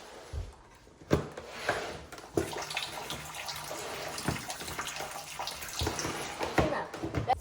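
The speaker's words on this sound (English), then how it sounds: "Now I'm going to put in some water." Water running from a tap into a pot for boiling eggs, a quiet steady splashing stream with occasional knocks and clinks around it.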